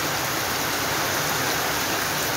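Steady heavy rain pouring on a rainy day in Jamaica, a dense continuous hiss of falling water without breaks, loud and close, no voices.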